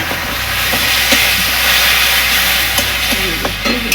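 Tomato and ginger paste sizzles in a hot pan of oil while a Bengali stuffed patol curry cooks: a loud, steady frying hiss, close up, with a few faint stirring clicks and no talk.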